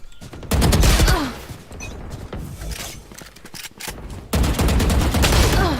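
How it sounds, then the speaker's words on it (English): Loud, close gunfire from two enemies in the video game Valorant comes in two dense bursts of rapid shots, with scattered shots in the quieter stretch between them. "There's two people shooting at me"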